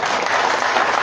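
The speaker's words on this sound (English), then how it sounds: "So congratulations Kalito, he really deserves an applaud" An audience at a Rotary Club of Panaji scholarship distribution program applauds, a brief, dense burst of steady clapping filling the hall.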